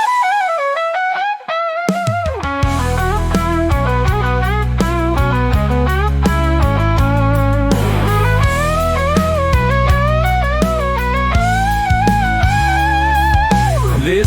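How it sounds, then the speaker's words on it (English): Electric guitar solo in a rock song, sustained bending lead notes soaring over a full band with driving drums and bass, loud and continuous after a short quiet intro. "Guitar solo."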